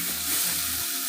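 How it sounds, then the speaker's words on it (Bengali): Spice paste for a pomfret curry sizzling in hot oil as it finishes sautéing, a dense, continuous close frying hiss filling the whole moment without pause. "আমার মশলাটা কষানো হয়ে গেছে"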